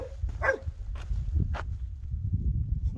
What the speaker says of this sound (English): my dog's barking away.